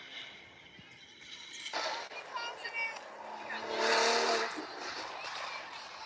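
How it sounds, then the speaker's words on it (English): A car or motorcycle speeds past outside a high school softball game, a faint motor whoosh that swells to a peak and then trails away beneath crowd and ambient noise. "Just sort of car or motorcycle or some motor go by fast."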